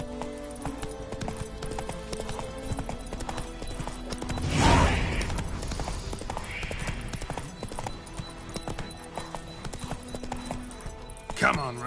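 Roach, Geralt's horse in The Witcher 3: Wild Hunt on PS5, gallops with steady hoofbeats and a brief whinny under game music and a voice urging it on.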